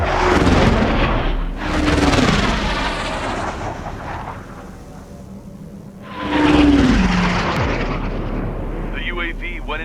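Jet aircraft roar in the Ace Combat 7 video game while chasing a UAV, with loud, continuous engine rumble and whooshing passes that swell and fade, and radio voices talking over it.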